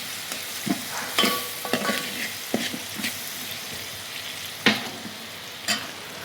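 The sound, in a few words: Malvani roasted masala being stirred and fried in a pan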